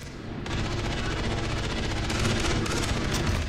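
Rapid automatic AK rifle fire in the Xbox 360 shooter Far Cry 3, a dense continuous burst of shots lasting about three seconds, loud and close, with no talking over it.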